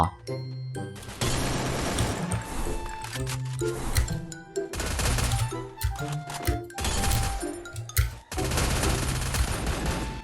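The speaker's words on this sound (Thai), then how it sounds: "ปืนแม่งโคตรรัว ปืนโคตรรัว" Gunfire in the mobile shooter game Free Fire, dense rapid bursts of automatic shots coming in several loud volleys with brief gaps between them.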